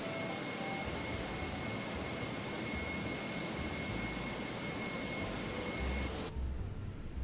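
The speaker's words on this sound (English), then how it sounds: "I think that's the Eurowings that just taxied by us." A Eurowings airliner taxis in a flight simulator game, a steady loud jet engine whine and roar with sustained tonal lines running alone, cutting off abruptly near the end.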